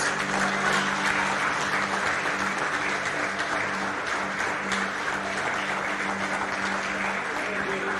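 A church congregation applauds continuously and evenly throughout, a dense, sustained wash of clapping from many hands at moderate distance, without distinct voices.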